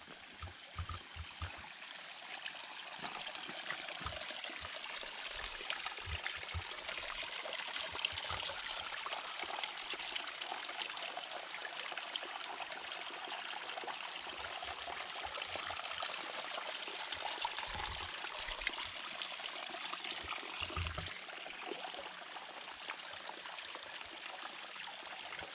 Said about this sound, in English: So when we're getting close to the water, you can hear it.